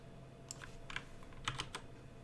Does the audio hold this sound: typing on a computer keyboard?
yes